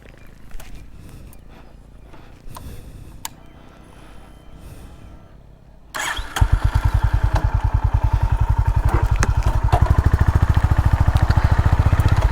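A Honda CB350 RS motorcycle starts up after a quiet stretch and then runs close by with a loud, steady thumping single-cylinder exhaust beat that holds to the end.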